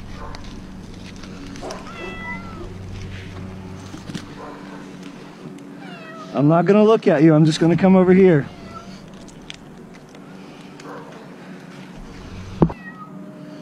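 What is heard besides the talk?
stranded cat meowing during rescue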